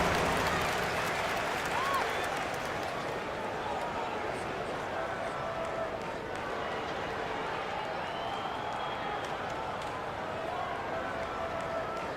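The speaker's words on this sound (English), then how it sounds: "Give yourself a round of applause." Dense crowd noise at an NBA basketball game between the Boston Celtics and Indiana Pacers, with applause and cheering, steady and unbroken, washing over everything for the whole stretch.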